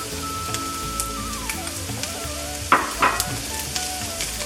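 Green chilies frying with onions in a pan, a steady close sizzle with a couple of sharp pops near the middle, alone without talk.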